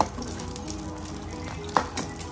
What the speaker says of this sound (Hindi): बस ये शामी हमारी फ्राई हो जाएगी। शामी फ्राई कर लें।